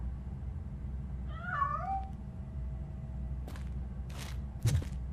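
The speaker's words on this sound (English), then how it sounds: "I'm afraid this time it's a one-way street, Mr. Cat. But where are you hiding" A cat in the RoboCop: Rogue City video game gives a single clear, rising-and-falling meow over a quiet ambient hum, followed by a few soft thumps and rustles.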